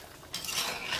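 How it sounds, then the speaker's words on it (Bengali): Meat being stirred and sautéed in a pot over a village clay stove, with a dull scraping of a utensil giving way after a moment to a louder, continuous hiss of frying close by. "ভালো করেই তো কষাচ্ছি।"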